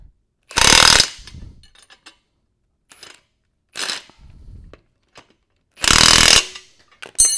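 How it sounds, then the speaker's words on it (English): An impact wrench snugs up the bolts on a gooseneck hitch in three separate loud, rattling bursts of hammering, each about a third to half a second long, with quieter clinks and handling noises in the gaps between them. "snug these up with the impact"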